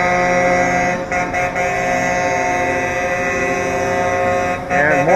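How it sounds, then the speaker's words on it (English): Air horn of Linda Fire Truck 271 blares loud and sustained, nearly continuous with brief dips, as it passes close by in an evening Christmas parade in Marysville. "It is Linda Fire Truck 271 passing us by here."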